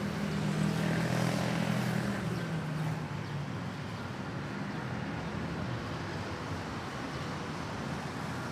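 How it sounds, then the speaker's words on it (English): An ATR 72 turboprop arriving from Naga City at Manila airport, a steady broadband propeller and engine roar with a low hum, loudest in the first few seconds and then holding level, with no voices. "now we're waiting for an ATR 72 turboprop arriving from Naga City"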